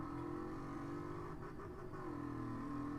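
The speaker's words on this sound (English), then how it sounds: "Bounces off the rev limiter." A supercharged Reptilia R2 engine in Car Mechanic Simulator 2018 bounces off the rev limiter, a loud, sustained high-revving drone with rapid fluttering cuts where the limiter kicks in.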